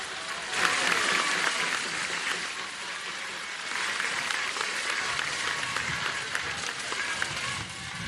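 A crowd at a school event in García, Nuevo León claps in sustained applause, a dense, even roar of many hands that swells and holds for several seconds, heard alone without talk.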